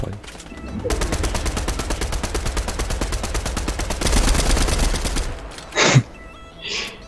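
Automatic gunfire in a shooter video game rattles as one long, rapid, evenly spaced burst of loud shots lasting several seconds, followed by a couple of brief vocal sounds.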